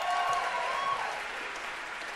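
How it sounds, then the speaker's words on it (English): Audience applause at an a cappella quartet concert, steady broadband clapping from a crowd that swells briefly then holds at an even level for a couple of seconds, with no talk over it. "So let's also give her a round of applause for that."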